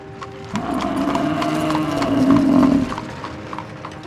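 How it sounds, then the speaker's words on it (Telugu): A horse gallops at speed through a forest, chasing a wild buffalo; quick, steady hoofbeats sound close and fairly loud over a sustained tonal background. "దాని వెనకాలే గుర్రం అంతకంటే ఎక్కువ వేగంతో అడవి బర్రెను తరుముకుంటూ వెళుతూ ఉంటుంది"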